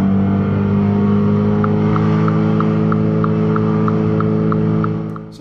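A faulty Mini Cooper engine runs up on its own with no throttle applied, giving a loud, close, steady droning hum with a faint regular ticking over it, then tapering off at the very end.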